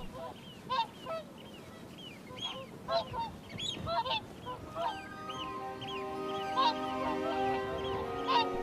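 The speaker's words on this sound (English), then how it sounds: "The swans are in transit," A flock of migrating swans resting at a stopover gives repeated honking, bugling calls that overlap into a dense, continuous chorus, close and fairly loud.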